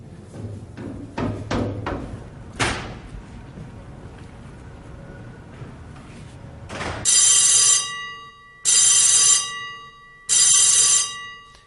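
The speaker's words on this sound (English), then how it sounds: "The alarm is raised and the crew muster." A ship's alarm bell rings for a crew muster in three long loud bursts separated by pauses, following a few clatters and knocks aboard the vessel.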